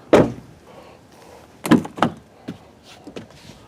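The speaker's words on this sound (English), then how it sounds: "Doors open nice and wide, I like that." Door of a 2014 Chevrolet Cruze 1LT RS being handled: a sharp latch clunk, then several thuds and clicks as the door swings and settles, close and fairly loud.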